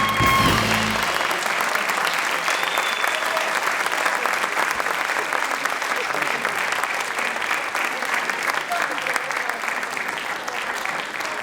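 A concert audience at a choir performance applauds continuously, a dense, even wash of many hands clapping for the whole stretch, loud and sustained without pause.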